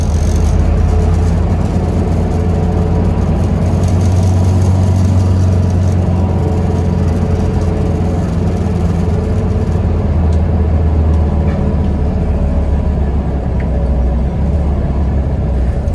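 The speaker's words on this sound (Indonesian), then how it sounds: "Di pertigaan ke Jalan Pramuka dan Jalan Tambak inilah yang membuat macet lalu lintas kendaraan" Dense road traffic rumbles steadily at a congested junction of Jalan Pramuka and Jalan Tambak in Jakarta, near LRT construction works, a continuous loud wash of idling and moving car and bus engines with no voices.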